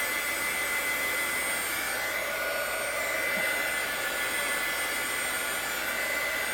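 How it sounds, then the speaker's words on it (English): Heat gun blowing steadily close to embossing powder during art journaling, a continuous loud airy hiss and whine with no breaks throughout. "I'm having my heat gun pretty close to the embossing powder"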